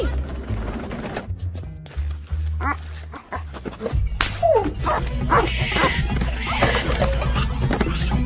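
A dog barks in a tense film scene, its barks mixed with horse whinnies and clip-clopping hooves under music and voices throughout.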